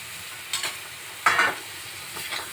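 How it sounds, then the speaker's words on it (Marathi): Small dried shrimp being sautéed in a pan, a soft low sizzle under a few distinct scraping stir strokes of a spatula, close and fairly quiet, with no voices. "जरासा जवळा परतून घेतल्यानंतर"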